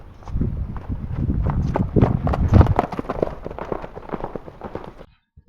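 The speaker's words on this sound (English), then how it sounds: "Now notice as the horse is running" A horse cantering on open ground, its hooves drumming in a quick loud rhythm of clip-clop beats that run for about five seconds and then stop abruptly.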